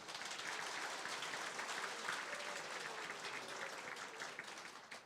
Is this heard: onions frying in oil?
no